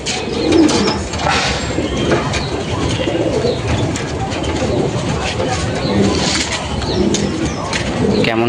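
Several home-raised Madras pigeons coo steadily in a loft, their low murmuring calls overlapping throughout amid background rustle and occasional voices.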